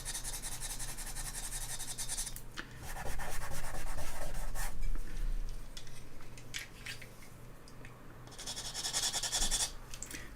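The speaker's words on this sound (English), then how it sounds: "pastel matte paper holds the pastel, so when I'm rubbing it like that, fairly firm, it's not going everywhere" Soft pastel rubbed firmly onto pastel matte paper, a close, continuous scratchy rubbing in uneven bursts that swells louder mid-way and again near the end, with no voice.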